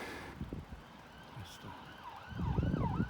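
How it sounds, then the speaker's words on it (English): A faint siren wails in the distance, its rising and falling tone drifting over low, rumbling street noise. "apart from me blabbering on and the odd siren, it's peaceful"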